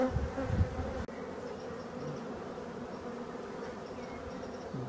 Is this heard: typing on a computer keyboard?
no